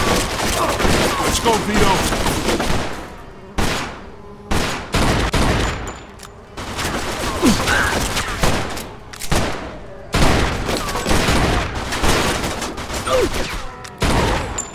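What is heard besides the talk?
gunfire in Mafia 2 video game shootout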